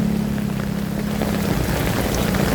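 Heavy rain pours down at a temporary rainy-season floating market in Lat Phrao, Bangkok, a steady dense hiss of water that holds loud and unbroken throughout with no talking.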